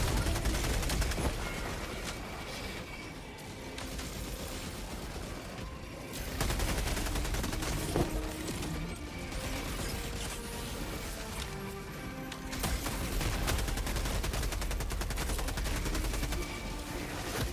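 Sustained gunfire from a weapon in the Helldivers 2 video game, dense rapid bursts layered with explosions and game effects, loud and continuous throughout with no pauses.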